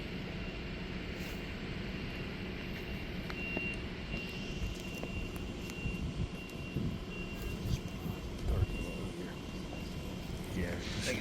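A police drone from a sheriff's drone unit demonstration hums in the open air, a steady whining drone with a constant tone, while some faint background rumble and vehicle noise sit underneath.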